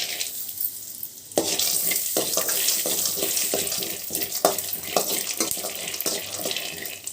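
Peanuts roasting in hot oil in a pan: a close, steady sizzle that grows louder after a second, broken by repeated scraping stirs.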